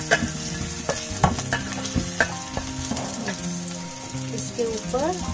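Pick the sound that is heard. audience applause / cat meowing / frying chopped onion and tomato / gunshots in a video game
frying chopped onion and tomato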